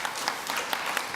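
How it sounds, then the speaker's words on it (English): A dev summit audience gives brief, moderate applause, a steady patter of overlapping claps with a few sharper individual hits. "Big round of applause"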